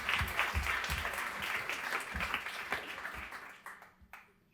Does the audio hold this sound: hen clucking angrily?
no